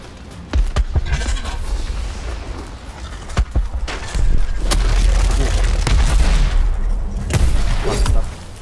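Fireworks go off in the video game Dauntless, a string of loud booming bursts with crackling tails, several blasts spaced across the stretch under a steady game soundscape.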